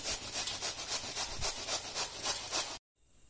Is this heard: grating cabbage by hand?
yes